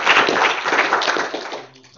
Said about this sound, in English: please give Sebastian another round of applause